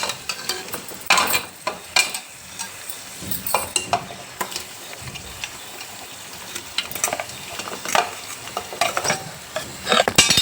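Goat head curry frying in a pan with ginger garlic paste and turmeric, a spoon scraping and clinking against the metal in repeated stirring strokes over a steady sizzle, close and alone.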